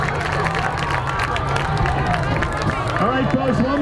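A large crowd applauds and cheers for the North Penn Marching Knights and their seniors at a community night, a dense steady roar of clapping and voices throughout, with a few whistles near the end.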